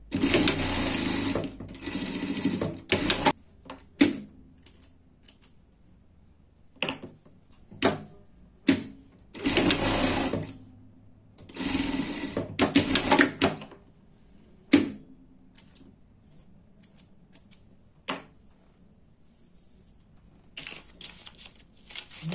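A sewing machine stitches a school tracksuit jacket's pockets in short whirring bursts of rapid stitching, separated by pauses and sharp clicks and thumps of handling fabric, close and fairly loud.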